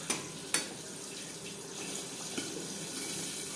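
Water poured from a blender's mixer jar into a simmering potato and egg curry, a steady, soft watery rush with a couple of sharp clinks near the start.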